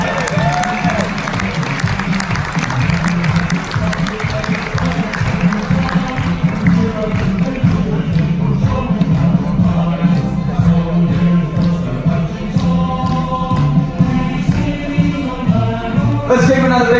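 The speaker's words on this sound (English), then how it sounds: "Give a nice big round of applause," Applause and cheers for Coast Guard veterans at a veterans gathering and military appreciation party aboard a Carnival cruise ship, mixed with loud background music and voices in a busy, echoing room.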